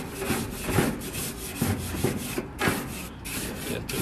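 A large brush scrubs back and forth across a hot outdoor barbecue grill, giving rapid, rhythmic rasping strokes that are close and fairly loud, with no talking.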